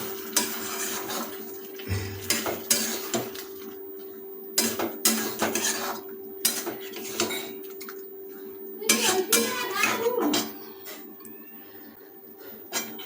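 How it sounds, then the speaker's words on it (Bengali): A spatula stirs braised chicken in a pan with a little water added, for a spinach chicken dish, giving repeated metallic scrapes and clinks against the pan in irregular bursts, fairly close, with no talk. "যেহেতু কষানো মাংসের উপর আমরা জল যোগ করেছি তাই খুঁজে কিছুক্ষণ নাড়িয়ে দেবো"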